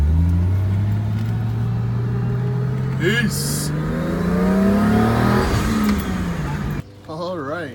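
A Toyota Supra on fresh tyres accelerates with a loud, rising engine drone through the gears, then eases off near the end as a voice briefly speaks.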